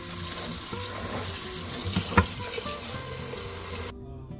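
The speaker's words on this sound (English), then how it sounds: "So I'm gonna clean its salt water out. Okay, so clean this vegetable very good." Pickled vegetables are rinsed of their salt water under a running kitchen tap, a steady hiss of flowing water into a sink with a brief splash and handling clatter midway, before the tap shuts off near the end.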